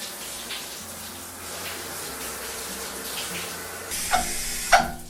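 Cartoon water runs steadily as a bath rinse in a Bluey bedtime-routine game, a continuous close pour that ends with a couple of louder splashes.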